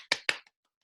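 A few claps for Louise at a virtual Christmas Noir at the Bar reading show, just two or three sharp hand claps close by, quickly dying into silence.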